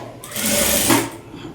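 Sewing machine stitching piping onto a blouse, a steady close whir running about a second at moderate loudness with quieter moments before and after.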